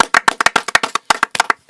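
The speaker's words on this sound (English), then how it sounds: "Clap it up." A single person claps hands in a quick, slightly uneven series of about fifteen sharp, close claps, with a brief pause midway before the clapping resumes.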